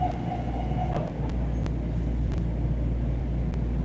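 A train bound for North White Plains pulls into Tremont station, giving a steady, loud low rumble with faint metallic clicks that holds evenly for the whole stretch.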